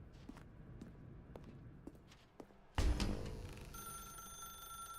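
A telephone starts ringing inside The Stanley Parable video game, a bright sudden ring that keeps sounding continuously after a few soft footsteps, with no speech over it.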